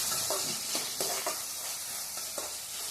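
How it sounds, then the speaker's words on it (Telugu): Onions and green chillies frying in oil in a pan, a steady close sizzle with a few soft scrapes of stirring, no voices. "ఆనియన్స్, పచ్చిమిర్చి బ్రౌన్ కలర్లోకి వచ్చేంత వరకు వేయించుకోవాలండి"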